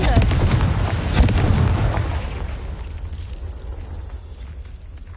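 A Confringo fire spell blasts in a Harry Potter video game, a loud rumbling explosion that booms for about two seconds and then slowly decays into a fading roar.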